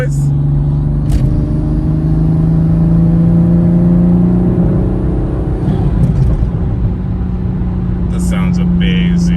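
A Toyota Supra engine with an aftermarket Armaspeed intake and stock exhaust drones loudly from inside the cabin, its deep rumble rising and falling as it revs, with a rough intake roar underneath.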